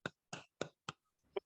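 A few children clap in a classroom for a classmate: five separate, sharp claps at an uneven pace, close and fairly quiet with silence between them.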